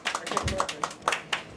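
Light clapping from a small audience at a radio interview, a sparse run of separate claps heard alone without talk.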